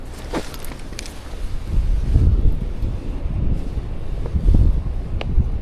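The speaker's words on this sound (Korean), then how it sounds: "어이구 바람 때문에 깜짝 놀랐네" Gusting wind buffets the microphone during a visit to inspect a water leak. It comes as low, rumbling swells that rise and fall several times and stays loud and close throughout.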